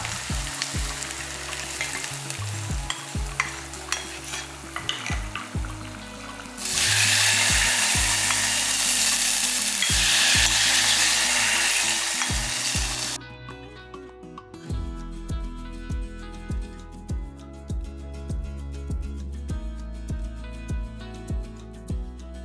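Onions sauté until brown in a pan for cowpea kadasal, a close, continuous sizzle with intermittent stirring scrapes under background music, fading out to music alone near the end.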